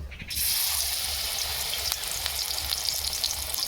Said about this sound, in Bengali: বেসনের যে একটা বেটার তৈরি করেছি সেই বেটারের মধ্যে ডুবিয়ে দিচ্ছি তেল গরম হয়ে গেছে তেলে ছেড়ে দেব